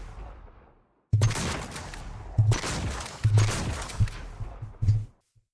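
Shots from the Dr. Stone gun in a Minecraft Create mod, several loud booming blasts in quick succession after a quiet lead-in, each with a heavy low thump and noisy tail.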